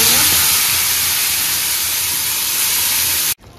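Tomato puree hitting hot oil with browned garlic and ginger for chicken momo filling gives a loud, steady broadband sizzle and hiss that runs unbroken for over three seconds, then cuts off abruptly near the end.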